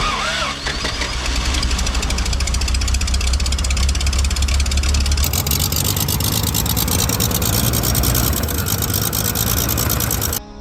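Engine of a 1973 Toyota Land Cruiser FJ55 running loud and steady throughout, a rough, knocking idle with a deep rumble that swells slightly partway through before cutting off right at the end.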